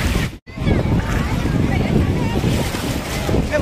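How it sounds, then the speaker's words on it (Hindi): Sea waves surging ashore at the Mumbai waterfront make a loud, rushing wash with heavy wind buffeting the microphone, continuous apart from a brief dropout near the start. "कैसी लाट आई"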